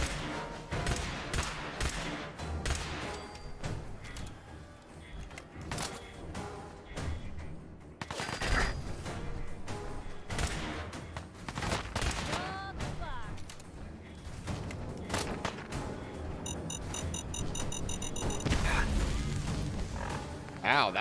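Bursts of pistol fire and clattering weapon mechanisms in Fallout 4 VR, repeated sharp shots in irregular clusters over a busy game background, with someone talking at times.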